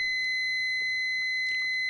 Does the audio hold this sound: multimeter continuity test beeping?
yes